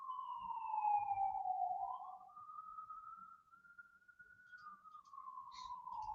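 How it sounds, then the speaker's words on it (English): A single police car siren tone, likely NYPD, wails slowly up and down at moderate distance, steady and unbroken, with faint rumbling low noise beneath. "Oh, siren, guys."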